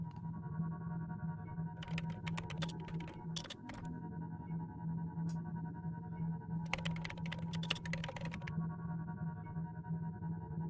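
Typing sound effect in a Star Wars Thrawn comic dub: bursts of rapid clicky keystrokes in two main runs over a steady electronic hum and low drone, with no voices.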